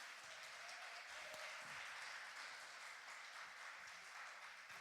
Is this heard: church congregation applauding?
yes